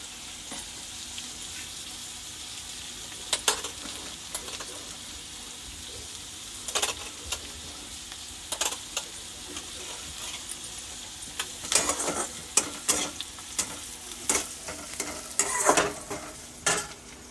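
Grated coconut cooking in oil to draw out coconut oil, a soft continuous sizzle broken by repeated scraping stirs that grow busier and louder toward the end.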